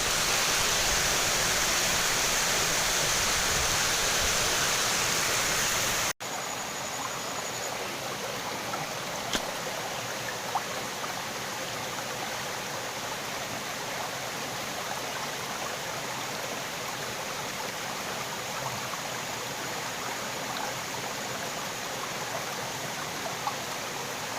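River water flows continuously with a steady broadband rush near a waterfall in rain, loud at first, then softer and more distant after an abrupt shift, with a few faint splashes.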